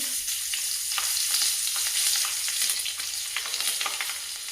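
Turmeric, coriander seeds, curry leaves and green chili sizzle hard in hot oil as a tempering for pappu charu, a steady bright crackling hiss that holds through the whole stretch, close and loud with no voices.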